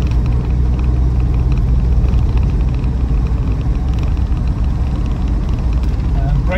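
2.2 TDCi Land Rover Defender 110 utility wagon driving over a potholed road, a steady heavy low rumble of the engine and the road from inside the vehicle, with someone talking over it.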